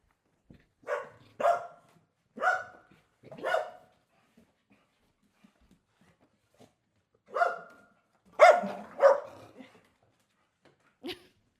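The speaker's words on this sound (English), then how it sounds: "I have to worry about the dogs barking or doing something" A dog barks indoors in short bursts, two quick pairs of barks, then a pause, then several more barks closer together and a final yip, each bark clear and fairly loud in an otherwise quiet room.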